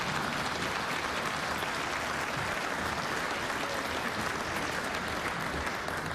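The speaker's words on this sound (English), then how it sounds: "you can applaud for the American dream" Steady applause from an audience at a Montana state address, dense and even throughout with a faint voice or two mixed in.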